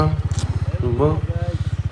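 A motorcycle on a muddy off-road mountain trail idles with a steady, close, rapid thumping, while someone talks over the engine.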